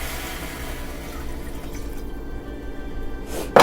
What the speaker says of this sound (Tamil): இப்போ இதில் நான் வந்து ஒரு கப் தண்ணி ஊற்றுறேன்.